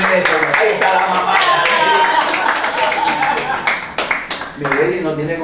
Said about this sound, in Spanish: Un aplauso, Milady.